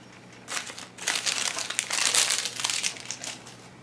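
Plastic wrapping crinkles and crumples as it is pulled off a Hot Toys Empire Strikes Back 40th Anniversary Boba Fett sixth-scale figure, close and fairly loud in dense bursts that swell over several seconds, with no talking.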